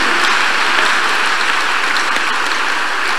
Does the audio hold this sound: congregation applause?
yes